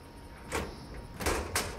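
A car door in Cyberpunk 2077 as a character climbs out of the vehicle, with a dull opening thud followed by two sharper clunks of the door shutting, close and fairly loud over a low ambient hum.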